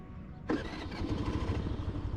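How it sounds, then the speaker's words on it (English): A Hero Pleasure Plus BS6 scooter engine cranks and catches about halfway through, then settles into a steady, smooth close-up idle. "Let me start the engine once."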